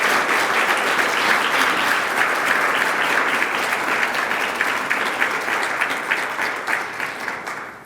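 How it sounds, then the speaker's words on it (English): A warm round of applause for sponsors at a lunch event at a golf club, a full room clapping steadily before tapering off near the end, heard alone. "Let's give all of them a warm BFF round of applause for their support."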